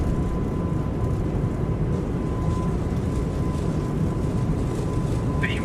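Inside a Qantas Airbus A220 on its takeoff roll and rotation, a steady broad engine roar and rumble holds at constant loudness with a faint thin tone running through it, and cockpit voices speak briefly near the end.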